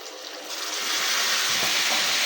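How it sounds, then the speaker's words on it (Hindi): Water poured into a pan of beef boti masala cooking on a tawa, a steady rushing hiss and sizzle that builds slightly and continues throughout without talk. "थोड़ा सा पानी ऐड करेंगे कि मसाले आपके जले ना।"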